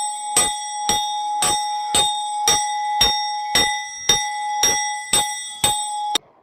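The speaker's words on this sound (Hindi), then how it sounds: "आप घंटी बजा रहे हैं स्कूल में" A school bell is struck by hand in an even series of about ten bright metallic rings roughly every half second, each ringing briefly before the next strike, close and fairly loud, with no voices.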